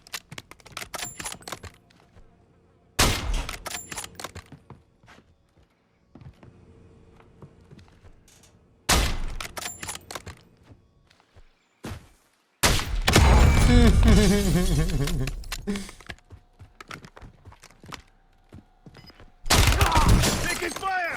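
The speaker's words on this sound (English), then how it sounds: "Taking fire!" Bursts of gunfire from a Warzone match ring out in sharp clusters, with loud sustained volleys near the middle and end separated by quieter gaps and faint clicks.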